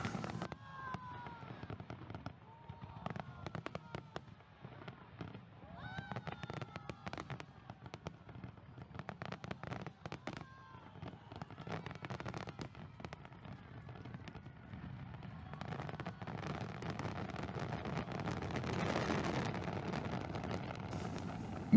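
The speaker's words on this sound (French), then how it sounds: "Je vous laisse profiter de ce feu d'artifice pendant quelques temps." Fireworks at a festival competition in South Korea, with dense bursts and crackling pops throughout, swelling into a heavy rumbling barrage toward the end, heard at a distance with crowd ambience beneath.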